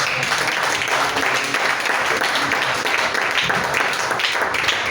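A church congregation applauding and cheering the Lord, dense sustained clapping with crowd voices mixed in, loud and continuous throughout.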